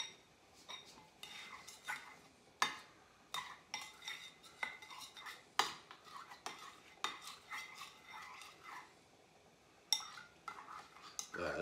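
A utensil clinks and scrapes repeatedly against a bowl in irregular strokes as a mixture is stirred, fairly quiet and close.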